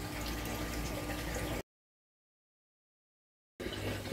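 Water rising and trickling inside an aquaponics bell siphon, a steady close wash of flow that cuts to silence for about two seconds, then resumes.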